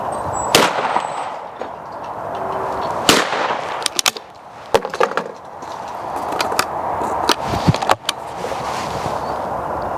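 A Beretta 686 Silver Pigeon shotgun fires at clay targets outdoors, several loud sharp reports at irregular intervals, no speech over them.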